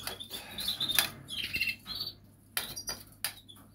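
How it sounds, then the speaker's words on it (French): Pet birds in a breeding aviary chirp and squawk at feeding time, a scatter of short bright tweets and calls from several birds at close range, with some rustling between them and no talking. "Et on va donner aux oiseaux."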